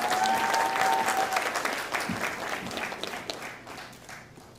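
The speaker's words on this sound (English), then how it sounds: "Can we have a round of applause for our esteemed musicians supporting Sadhanaa and Sahanna tonight?" The audience at a Bharatanatyam arangetram applauds the accompanying musicians, a full burst of clapping with a brief whistle-like tone at the start, gradually fading as the applause dies down.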